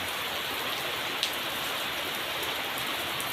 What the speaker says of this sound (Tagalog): Umuulan po ngayong araw.